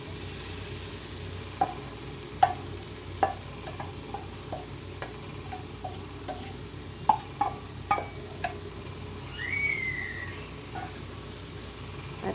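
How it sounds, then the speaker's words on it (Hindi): Fried potato and cabbage are stirred into masala in a pan, a soft low sizzle broken by scattered sharp clicks and taps of a utensil against the pan, fairly quiet and without talk. "अब इस सब्ज़ी को सारे मसाले में हम मिक्स कर देंगे, मिलाएंगे, ताकि मसाला सारी सब्ज़ी में चला जाए।"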